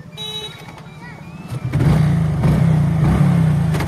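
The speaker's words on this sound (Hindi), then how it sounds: "चलिए दोस्तों बाइक स्टार्ट कर लेता है।" A motorbike engine kicks into life during the rainy season, first a thin idle and then a loud, steady low rumble as it pulls away close by.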